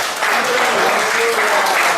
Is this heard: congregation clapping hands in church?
yes